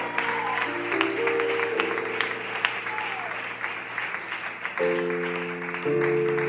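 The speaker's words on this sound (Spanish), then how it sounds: "Si lo crees, por favor, bríndale un aplauso." Church congregation applauding during a Spanish-language worship service, steady clapping through the whole stretch while sustained organ or keyboard chords play underneath.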